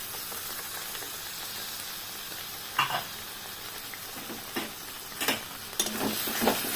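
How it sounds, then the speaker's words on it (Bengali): Yogurt added to a pan of frying fish sets off a steady loud sizzle, with occasional stirring scrapes and spatters rising above it. "আমি এবার দইটা দিয়ে দেবো।"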